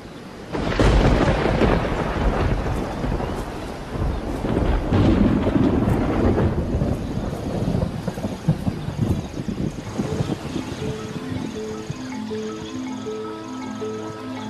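A summer thunderstorm with rain in Kruger's savanna, loud rumbling thunder rolling through the opening seconds over a steady rain wash, then fading as soft music rises beneath it.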